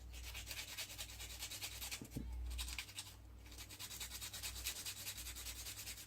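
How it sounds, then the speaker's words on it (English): Steady, close scratchy rubbing of a sanding stick on a plastic scale model part, continuous back-and-forth abrasion throughout with a brief pause partway. "just sand him down"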